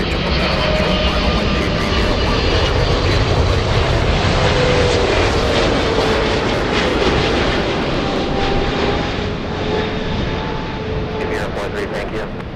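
A heavy Boeing 777 jet on final approach at LAX roars loudly and steadily overhead, its engine noise slowly fading toward the end, with radio talk faintly underneath.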